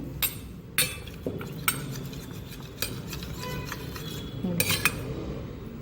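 Spoon clinking and scraping against a bowl while a mixture for fruit salad is stirred, made with hot milk, with sharp metallic taps scattered through steady stirring and no talk.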